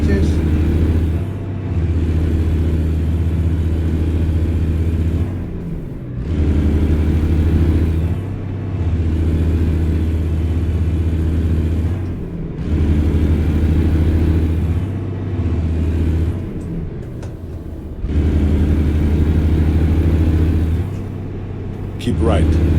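A truck engine in American Truck Simulator hums and rumbles loudly, rising in long pulls broken by brief dips between gear changes, with a voice talking over it.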